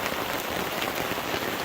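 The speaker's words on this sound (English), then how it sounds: "It's raining pretty hard." Heavy rain drumming on a tarp over a shack, a dense, loud, unbroken patter close by with no voices.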